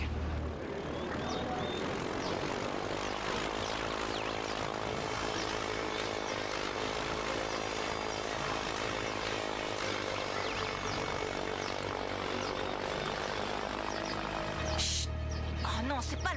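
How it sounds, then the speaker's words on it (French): A fixed-wing airplane engine drones loudly and steadily for most of the stretch, with propeller-like roar filling the scene before shifting near the end. "Ici la tour de contrôle, vous avez le feu vert pour décoller."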